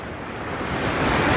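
The flooded Mahur river at Kolabari roars in a steady, broad rushing wash that grows slightly louder, with wind buffeting the microphone and no voices.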